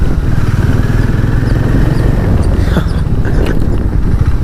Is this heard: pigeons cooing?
no